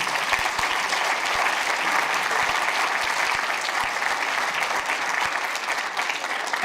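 A cinema audience applauds Julie at a film premiere, a loud, continuous wash of many hands clapping at once, with a few distinct nearby claps popping through the steady crowd noise.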